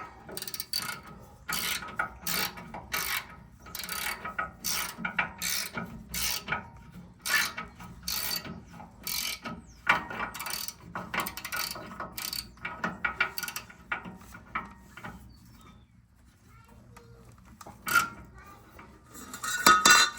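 A ratchet clicks in quick bursts while tightening brake caliper bolts on a 2004 GMC truck, close and crisp metallic ratcheting repeated through the stretch, with brief pauses and faint tool clinks between.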